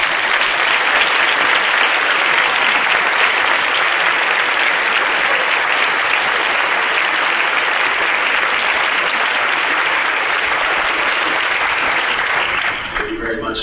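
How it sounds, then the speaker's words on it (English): Sustained, loud applause fills the hall at a teacher of the year awards ceremony as the crowd congratulates the honored teachers, a thick continuous clapping that barely wavers before tapering at the very end. "This time, we should congratulate everybody with a round of applause."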